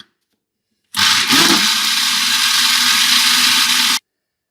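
An electric blender whirs raw mango sherbet with black salt, starting abruptly, running loud and steady for about three seconds with a brief lurch early on, then cutting off into silence.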